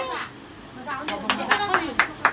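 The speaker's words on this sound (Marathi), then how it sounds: "टाळ्या टाळ्या." Hands clapping at a family Raksha Bandhan celebration. A voice comes first, then about six quick, close claps in an uneven rhythm as people keep talking.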